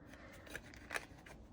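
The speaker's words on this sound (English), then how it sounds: "So I'll go ahead and give this a shuffle." Smith-Waite tarot deck being shuffled by hand, giving soft papery riffles and two sharper card snaps, quiet and close with no voices.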